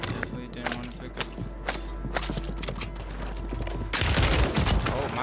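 Gunfire on Rebirth Island in Call of Duty Warzone: loud, irregular bursts of sharp shots, some clustered and some spaced, under a low rumble, ending in a heavier, denser volley.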